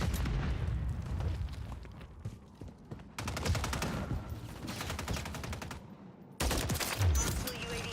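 Rapid gunfire and explosions in a shooter video game, dense bursts of shots in three loud stretches separated by short cuts, with a deep boom among them and faint game voices underneath.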